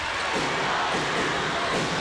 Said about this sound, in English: Heavy Bombers crowd